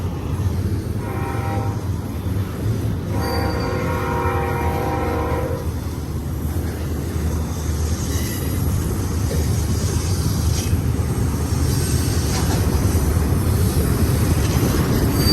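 BNSF intermodal freight train passing eastbound at Cajon Pass, California, with a loud steady rumble of wheels and engines throughout and a sustained horn blast early on, no talk.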